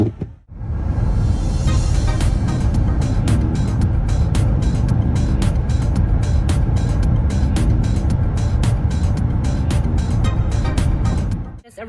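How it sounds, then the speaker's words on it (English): Car driving through heavy city traffic, with a steady loud road and engine rumble and repeated sharp clicks, likely a turn signal, running the whole way. "This is not fun because the traffic is crazy."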